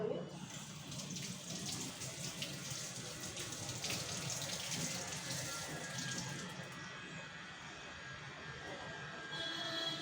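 Tap water runs steadily at a kitchen sink while a large brinjal is washed under it, a soft continuous hiss with some splashing, fairly quiet throughout.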